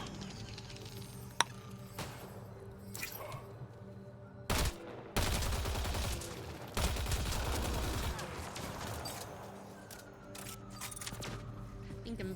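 Shotgun blasts in a video game: a few loud, sharp bursts, one short and two longer booming volleys, over steady background game noise.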